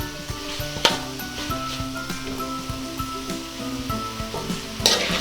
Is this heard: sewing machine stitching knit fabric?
no